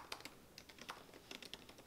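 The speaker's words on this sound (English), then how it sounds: "I'm typing words and they're slightly different." Typing on a computer keyboard while drafting a novel, close and fairly quiet, with irregular bursts of clicky keystrokes and short pauses between them.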